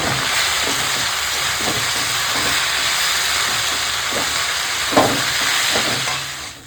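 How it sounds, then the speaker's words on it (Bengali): Sliced potatoes with salt and turmeric fry in oil in a wok, a steady loud hiss of sizzling close by, with a few soft scraping stirs breaking through near the end. "দিয়ে আলুটা আমি ভেজে নেব"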